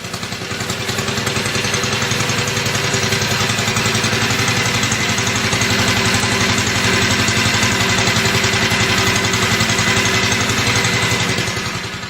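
A 1968 Sensation Go-Devil minibike, model 104, runs its small engine in a loud, steady putter with an even rapid firing rhythm throughout, no talking.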